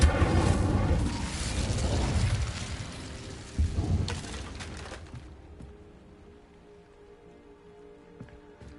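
A fire spell cast in the video game Hogwarts Legacy: a loud, broad whooshing crackle of flames that swells for several seconds, then breaks off, leaving quiet game ambience with faint clicks.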